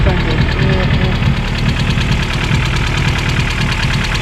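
A freshly rebuilt Vauxhall Corsa B C20LET engine, over-fuelling on its first start, runs loud and close in a steady, rough, knocking idle, with a constant hum and vibration throughout.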